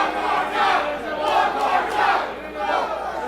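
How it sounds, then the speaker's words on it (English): A wrestling event crowd chants in rhythmic swells, several pulsing shouted phrases from a large audience, sustained and fairly loud with no commentary over it. "Crowd asking Joey Ryan to hand another lollipop"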